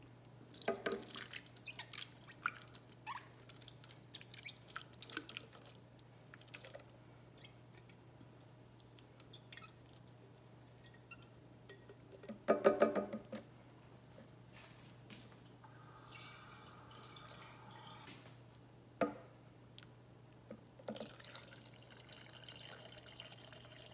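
Strained homemade oat milk drips in a quiet kitchen, a soft, irregular patter of drops with a steady low hum beneath and a brief louder splash midway.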